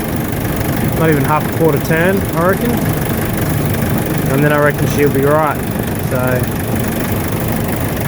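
2014 Nissan Navara D40 YD25 diesel idling with a freshly fitted power steering belt, a constant close rumble running throughout while someone talks over it in bursts.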